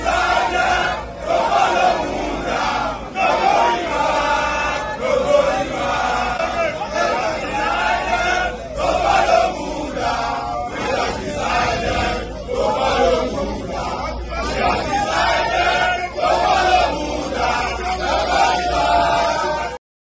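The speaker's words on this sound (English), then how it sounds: "his crowd, people who were cheering and supporting him" A large crowd of political supporters outside a state assembly complex cheers, shouts and whoops in a loud, continuous roar with bellowing voices and babble throughout.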